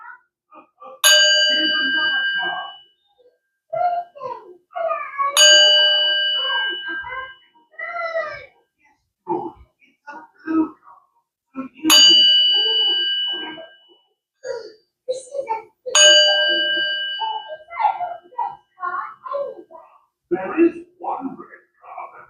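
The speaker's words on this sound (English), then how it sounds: "we're going to do a cleansing, sound cleansing, before we jump right into it" Bell chimes struck for a tarot sound cleansing ring out four times in a slow, even rhythm, each bright ringing tone decaying over a few seconds while a person talks between and over the strikes.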